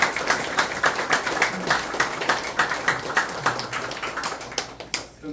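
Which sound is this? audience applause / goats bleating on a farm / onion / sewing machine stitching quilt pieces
audience applause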